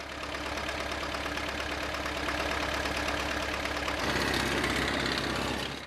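A logging tractor engine idles with a steady low rumble and knocking vibration, then shifts pitch as it revs and the wheels spin on frozen, snowy mountain ground.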